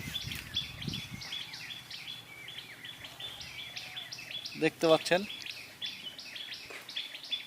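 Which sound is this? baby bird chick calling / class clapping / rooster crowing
baby bird chick calling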